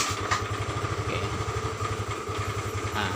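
A Honda Vario scooter engine idles close by after a kick start, with a rapid, even low thrum and slight mechanical rattle throughout.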